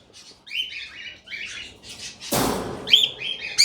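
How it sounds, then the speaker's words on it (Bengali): Restless caged birds at a Mirpur market chirp and tweet in repeated bursts while being caught, with a loud burst of wing flapping and scuffling partway through, close and fairly loud. "এই যে তার পাখিগুলো খুব চঞ্চল, অলরেডি একটা ধরে ফেলেছি"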